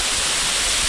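Bisibis Falls, a hidden waterfall beside the sea on the Mauban to Real road in Quezon, pours with a dense, steady hiss of falling water, loud and close, with no voices.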